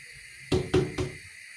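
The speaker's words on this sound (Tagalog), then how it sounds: "bakit ko pinupukpuk yung pinto?" Three quick, solid knocks on a door, close and evenly spaced, in an otherwise quiet room.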